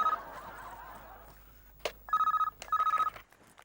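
A telephone bell rings twice in short trilling bursts, loud and close, after a stretch of quieter background noise.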